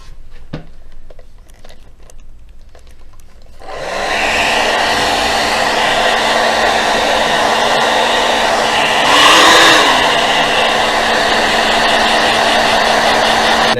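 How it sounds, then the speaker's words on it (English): A hair dryer on warm air switches on after a few quiet seconds of faint tapping and blows with a constant loud whir, its pitch wavering briefly midway, drying moisture from a Samsung Galaxy phone's charging port. "Next I want to hit it with a warm hair blower."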